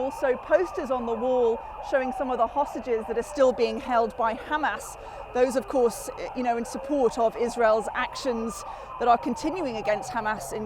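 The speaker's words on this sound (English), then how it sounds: "You can hear that very loud siren going on behind me," Loud siren sounded by protesters outside the Israeli embassy in Washington, D.C., wailing up and down steadily behind a reporter who talks throughout amid crowd noise.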